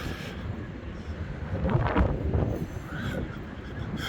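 Wind gusting along Blackpool promenade buffets the microphone in a broad, steady roar that swells near the middle and stays moderately loud, with no voices.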